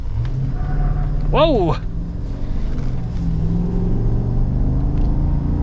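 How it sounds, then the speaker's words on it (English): A 2025 Chevy Silverado ZR2 Bison pickup rumbles and accelerates nearby with a steady low engine drone, while a person's sharp exclamation briefly rises over it early on. "I guess the truck's got a little bit too much power. Tires lost a little bit of traction there."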